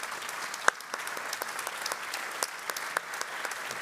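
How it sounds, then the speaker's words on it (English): Conference audience applauds a panel at an awards event in Europe; fairly faint, scattered clapping with a few sharper individual claps standing out, steady throughout without talk. "A round of applause for our panel."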